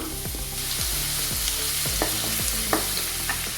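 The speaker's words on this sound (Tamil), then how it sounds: "கொஞ்சமாக எண்ணெய் விட்டுக்கோங்க. பூண்டு போட்டுக்கலாம்" Garlic frying in a little oil in a pan for chicken momos, a steady close sizzle broken by repeated soft scraping and stirring knocks, with no voices.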